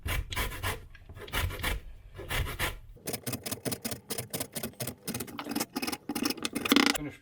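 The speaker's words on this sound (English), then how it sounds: "Then we're going to zest the orange" An orange being zested for a homemade fire cider tonic, giving repeated dry rasping scrapes in steady bursts, close and fairly quiet, with no talking.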